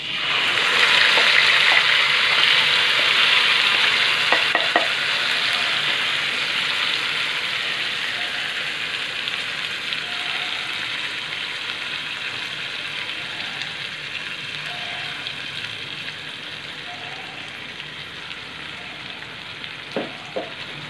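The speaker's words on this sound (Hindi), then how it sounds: "उसके बाद फिर ये टमाटर, प्याज, लहसुन और अदरक की पेस्ट जो हमने बना के रखी थी उसको डाल दें।" A tomato, onion, garlic and ginger paste hits hot oil with curry leaves in a pan, giving a loud, steady sizzle that gradually eases over about twenty seconds, with a few faint utensil clicks near the end.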